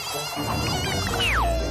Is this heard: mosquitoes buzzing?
yes